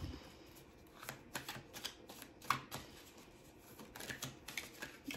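Tarot cards are laid down one after another on a table, soft quiet taps and slides in an irregular rhythm, close and faint with no talking.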